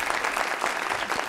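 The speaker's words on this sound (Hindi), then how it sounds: "तालियां।" A studio audience on a comedy talk show breaks into steady, dense clapping that holds at an even level throughout, with no talking over it.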